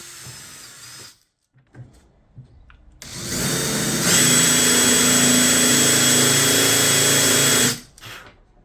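Power drill boring a hole in a table saw insert: a short buzz, a pause, then a loud sustained whine of several seconds that cuts off abruptly.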